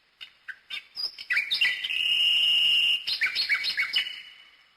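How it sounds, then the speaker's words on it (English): A mechanical toy nightingale sings alone: a run of short bright chirps, then a long sustained warbling whistle, followed by more quick trilled notes, clear and close. "A mechanical nightingale. Oh, listen. It sings beautifully too."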